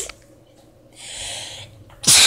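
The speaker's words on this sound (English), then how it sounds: "Hard sneezing." A single hard, explosive sneeze bursts out loud and close at the very end, after a quiet stretch with a soft breathy hiss in a messy home art area.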